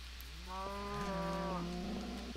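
A video game cow lets out a single drawn-out moo of about a second, clear and tonal over a low steady background hum.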